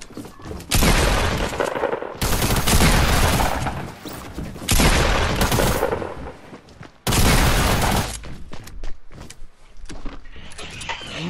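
Pump shotgun blasts in the Fortnite video game, four loud broad bursts with sustained crackling tails, spaced a couple of seconds apart, with no talking over them.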